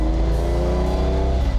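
A sports car engine roars at high revs, about half its rev range, a loud raw rasping drone held steady and close for a moment.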